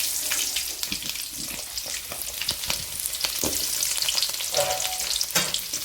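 Onions for a mutton gravy fry in hot oil with a loud, dense crackling sizzle, broken by frequent stirring scrapes close by.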